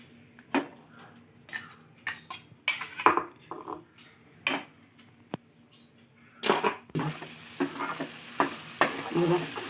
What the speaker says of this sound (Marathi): हे तेलामध्ये तळून घेतलं